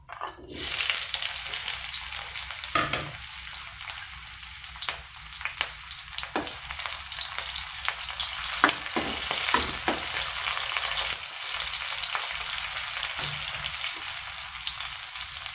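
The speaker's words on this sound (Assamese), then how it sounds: "পিঁয়াজখিনি মই অকণমান ব্ৰাউন কালাৰ হোৱালৈকে ভাজি লৈছোঁ" Chopped onion frying in hot oil in a pan makes a continuous close sizzle, broken by frequent scraping stirs of a spoon, with no talking.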